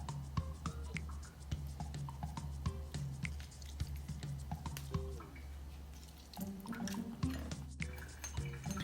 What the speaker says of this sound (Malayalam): ഇനി ഞാൻ ആ മയോണൈസിലേക്ക് ആ 1 tablespoon ലെമൺ ജ്യൂസ് ഒഴിക്കുകയാണ്